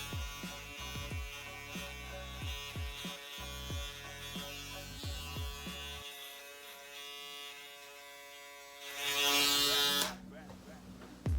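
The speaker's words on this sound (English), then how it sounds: "Now, I balled it out with my Andis shavers." An Andis electric shaver buzzes steadily up close while cutting hair in a self-cut at home, its hum swelling louder near the end, with someone talking over it at the start.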